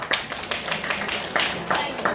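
A small audience at an indoor skincare seminar gives brief, scattered applause, with a handful of separate claps close by and a faint murmur of voices.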